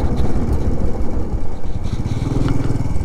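A Bajaj CT 100B motorcycle engine runs steadily and close up during a road ride between Pabna and Kushtia, with a continuous low drone and rough wind-like rumble throughout.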